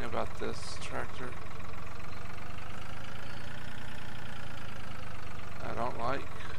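A tractor engine idles in Farming Simulator 2013, a steady low droning hum that runs throughout, with brief bursts of a voice near the start and end.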